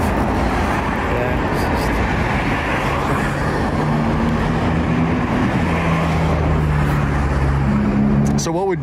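Loud Lamborghini Murcielago V12 engine idling and rumbling steadily close by, a roadside traffic stop setting, with a faint rise in pitch near the end and people talking over it.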